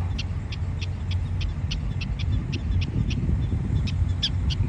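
High chirping calls from prairie dogs repeat in a steady series of short bursts, a dozen or so, over a constant low outdoor rumble.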